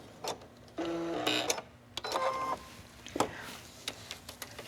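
A sewing machine stitches paper-pieced fabric in short mechanical bursts with whirring runs and clicks between pauses, fairly close and quiet, with no talking.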